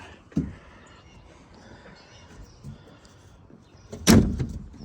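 A Pontiac Fiero GT door with a freshly adjusted latch closes in a workshop, giving a sharp thunk near the end after a smaller knock earlier; close, otherwise quiet.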